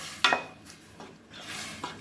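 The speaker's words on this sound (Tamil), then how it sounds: "இப்போ நம்ம அரைச்ச மசாலாவை அதில் ஊற்றிடுறோம்" Ground masala for a fish salna is poured into a cooking pot and stirred, with a sharp metallic clink and scrape of the spoon early on, then softer, quiet stirring and shuffling.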